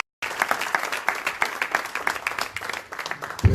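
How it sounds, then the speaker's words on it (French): A church congregation breaks into loud, sustained applause right after a short silence, many hands clapping densely together, with a few voices mixed in. "On acclame très fort pour notre Dieu."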